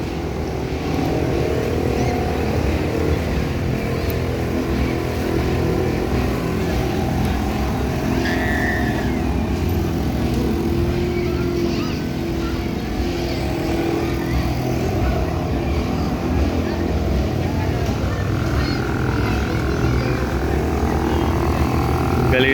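Gasoline boat engine running at a steady drone, loud and close, with a constant low rumble and occasional splashing water throughout.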